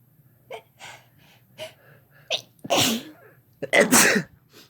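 Some faint breaths and small vocal sounds, then two loud sneezes in quick succession, close up.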